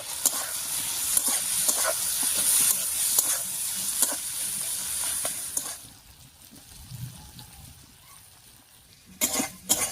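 Ground spices and tomatoes are stirred in a hot pan, giving a constant sizzle and scraping stirring strokes for several seconds. The frying then quiets before a few final clanks of the spoon.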